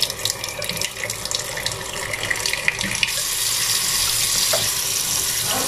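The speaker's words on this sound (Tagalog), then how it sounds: "Lagyan natin ng tubig." Tap water runs into a cooking pot for beef shank stew (nilagang pata ng baka), a steady, moderately loud splashing stream that grows fuller as the pot fills.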